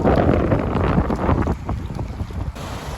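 Rough, choppy water on Lake Michigan in strong wind, heard as loud rushing wash and wind roar battering the microphone, easing slightly toward the end with no speech.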